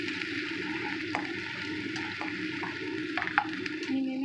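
Liquid, a fish broth, is poured over tofu in a home kitchen while a Taiwanese-style dish is cooked, making a continuous close splashing trickle with a few brief higher clinks.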